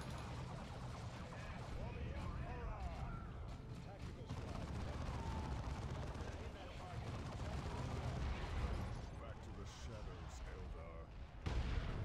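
Warhammer video game battle with a grenade blast and gunfire, dense rumbling explosions and crackling shots filling the whole stretch, with players talking over the combat.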